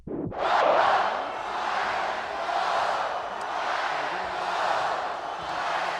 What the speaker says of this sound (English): And this crowd back in it